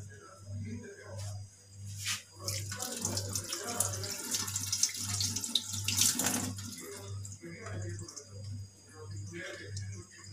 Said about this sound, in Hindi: इसको हम एक बार पानी से गुजारेंगे।